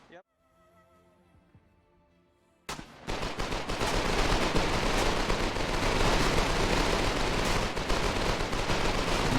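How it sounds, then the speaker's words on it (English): Many SMGs fire at once in the online war game Foxhole during a competitive league match, building into dense, continuous rattling gunfire after a quiet, tonal opening of a few seconds. "That's a lot of SMGs firing."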